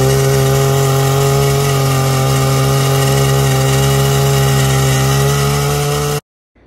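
Powered post-hole auger digging holes for fence posts in a backyard patio build: a loud, steady motor drone with a constant whining pitch runs continuously, then cuts off abruptly near the end.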